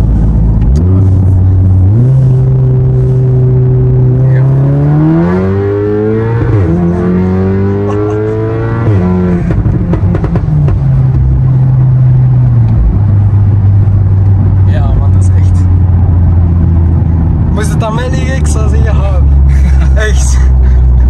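Belgian-tuned Volkswagen Golf 7R at Stage 3, around 528 hp, loud and close, its engine revving up and down in repeated rising and falling sweeps, with pops and crackles from the exhaust and people talking over the rumble.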